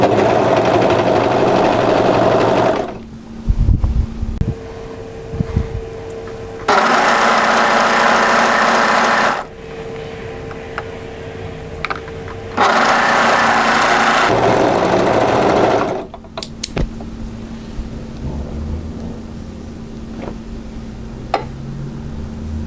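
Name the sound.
overlocker sewing a tee shirt hem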